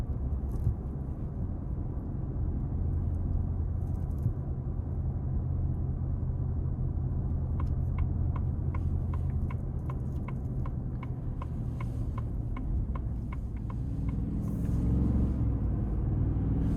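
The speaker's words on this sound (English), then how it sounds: "just under idle, just barely giving it any throttle, the V8's relatively quiet." A 2026 Ford F-150 XLT with a 5.0 V8 at light throttle, a low steady engine rumble inside the cab with a rhythmic run of turn-signal ticks partway through.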